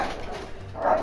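A dog gives a brief, close bark-like yelp, with a soft whimpering rise at the end, lasting about a second with no talk.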